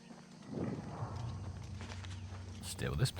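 Horse hooves clip-clop at a walking pace in Oblivion Remastered, fairly close, with game-like ambience and someone talking over them.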